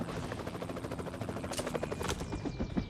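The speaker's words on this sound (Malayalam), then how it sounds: "ഒരു ഹെലികോപ്റ്റർ വരുന്നുണ്ട്" In a BGMI match, an approaching helicopter gives a low pulsing rotor drone, with a couple of sharp bursts like distant gunfire cutting in near the end.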